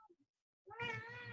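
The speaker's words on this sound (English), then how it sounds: "a meowy cat in the background" A cat gives one drawn-out, clear meow after a couple of faint short sounds, fairly close and alone against silence.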